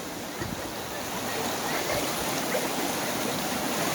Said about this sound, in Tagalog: Napakalakas ng agos, no?